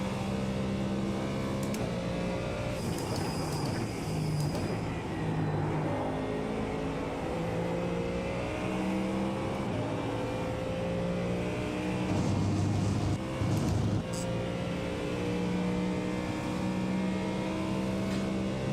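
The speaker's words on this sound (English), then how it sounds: "It's a little like high revving V8" A high-revving V8 race car engine in a video game revs high and steady, pitch climbing and dropping through gear shifts, loud and continuous throughout.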